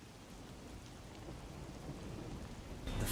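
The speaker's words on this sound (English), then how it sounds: "Melts against the sound of rain." Steady rain pouring in the video game Master Detective Archives: Rain Code, a dense, even hiss of falling drops with a low rumbling undertone, swelling slightly louder at the very end, with no voices.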